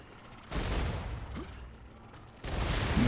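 Heavy artillery fire in the sci-fi video game StarRupture: dense, rumbling blasts swell in around the half-second mark, ease off, then return loudly near the end, with steady background noise throughout.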